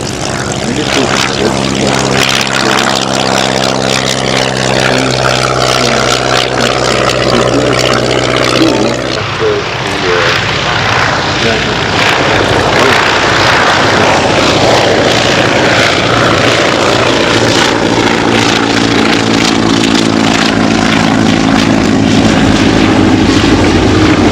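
Vintage propeller-driven aircraft with a corrugated aluminum skin flying at an airshow, a loud continuous engine drone with shifting pitch as it passes, steady throughout without talk.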